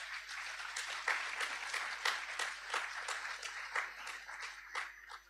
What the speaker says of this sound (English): Let's just give our two top performers another lusty round of applause